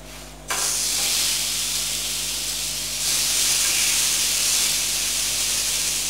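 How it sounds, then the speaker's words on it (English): A pork chop sizzles in a hot skillet, a loud, steady frying hiss that starts abruptly and swells slightly partway through, close and with no talking. "Next step is to grill your pork chop in a skillet or a grill."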